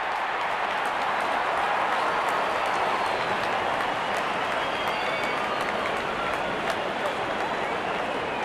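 A large stadium crowd in a cricket video game cheers and applauds as the openers walk out, a dense, steady roar that holds at an even level throughout with no one talking.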